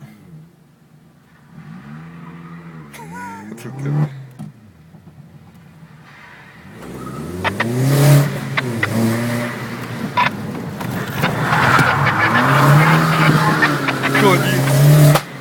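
Cars at an Opel club meet by Lake Garda drive past and rev on a climbing road, engines rising from faint to loud and close, with people talking in Italian over them.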